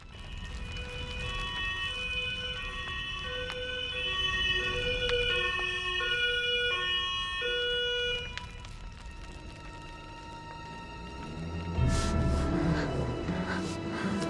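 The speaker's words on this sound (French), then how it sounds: "Les sirènes." Emergency vehicle sirens wail in steady, overlapping tones for a long stretch, fairly loud and continuous, then shift into a rougher, noisier wash near the end.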